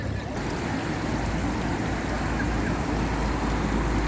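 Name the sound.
small fountain with running water in Mayfair, London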